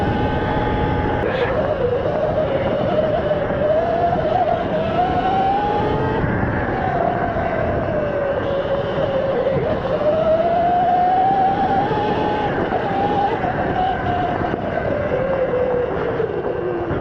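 Riding a motorcycle at low speed with the visor up, heard through a lavalier mic an inch from the rider's face: a steady engine drone with rising and falling pitch under constant rushing wind.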